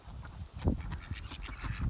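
Sebastopol geese in an enclosed front yard give a short run of soft, close honks and nasal murmurs.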